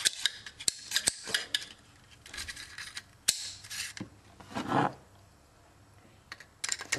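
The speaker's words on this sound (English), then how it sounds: "put in my charging handle, my bolt carrier group" A charging handle and bolt carrier group slide into an AR-15 upper receiver, giving sharp metallic clicks, scrapes and snaps in scattered bursts with quiet gaps between them, close and fairly faint.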